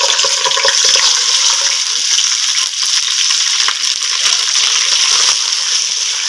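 Loud, steady hissing sizzle, close up, as water hits hot ginger and garlic frying in a pan, continuing without a break throughout.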